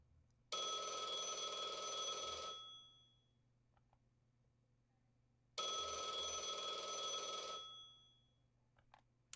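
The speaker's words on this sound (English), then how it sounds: "Ring, ring, ring," Telephone ringing in the Blue Archive video game, two long bright electronic bell rings separated by a pause, clear and alone.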